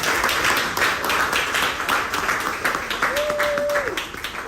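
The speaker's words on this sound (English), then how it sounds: "Clap that for her." Clapping from an audience during a call-in show, a scattered, uneven patter of hands with a short tonal whistle-like sound near the end.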